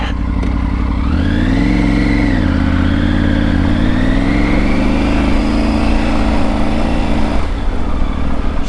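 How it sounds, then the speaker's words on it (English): Triumph Tiger 900 motorcycle ridden on a driveway, its engine loud and near with a steady throbbing drone that rises and falls in pitch as the throttle changes, continuous throughout with no voices. "Now it's time to take the bike for a ride."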